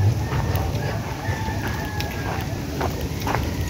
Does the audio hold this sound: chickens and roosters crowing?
yes